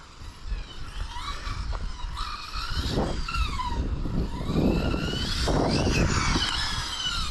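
A Hobao Hyper VTE 2 6S electric RC car drives on a paved road, its high-pitched motor whine rising and falling as it speeds past, with tire squeal and a steady mid-level loudness throughout.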